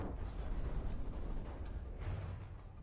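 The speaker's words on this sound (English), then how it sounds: "There's a lot of explosions." Naval gunfire explosions rumble in From the Depths, a dense, continuous low roar with overlapping blasts and a brief whoosh, loud and unbroken throughout.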